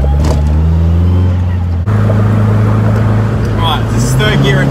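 A Nissan S15 widebody car accelerates on the highway in third gear, its engine droning loud and close with a steady rising pull and a brief gear-change dip, while a voice talks over it.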